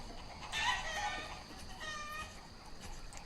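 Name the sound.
chickens clucking in the video game Banished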